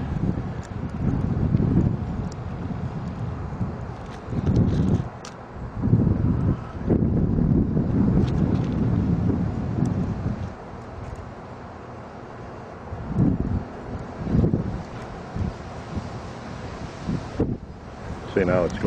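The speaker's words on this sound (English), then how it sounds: "the wind is blowing across here, messing around with the flames" Gusts of wind blowing across a small homemade woodgas camp stove during an outdoor boil test, a rough low rumble that swells and drops in bursts, loud and close to the microphone.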